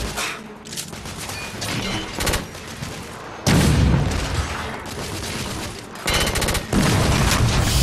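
Heavy gunfire in The Order: 1886 is aimed at the player, with dense, loud bursts of shots and booming impacts crackling up close in rapid succession for the whole stretch.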